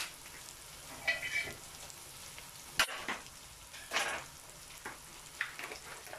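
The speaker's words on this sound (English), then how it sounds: "Okay, now I'm going to throw in my mince." Beef mince tossed into a pan with whole spices, garlic, ginger and tomato, frying with a soft steady sizzle and scattered louder bursts as it is stirred, close and fairly quiet, with no talking.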